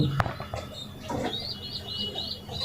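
A racing pigeon kept in a cage calls with a repeated soft warbling coo, close by, over faint background noise and a few light knocks.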